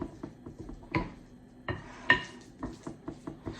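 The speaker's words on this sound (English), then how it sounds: "you can really just kind of mix them around and smash them up against the side of your bowl with your spoon" A spoon mashes ripe bananas against the side of a bowl for banana bread, producing a series of close, irregular clacks and soft squelchy knocks.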